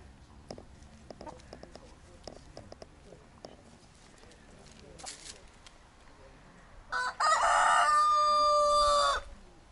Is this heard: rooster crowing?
yes